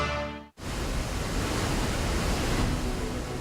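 Niagara Falls pours water over its crest in a loud, steady, broadband roar that starts abruptly after a brief silence and continues unbroken, with no talking.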